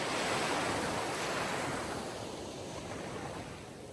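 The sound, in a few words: sea waves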